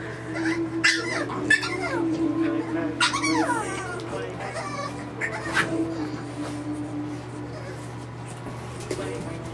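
French Bulldog puppies whimper and yip in short, high, wavering cries, close by in a nursery, over a steady low hum with some soft background talk.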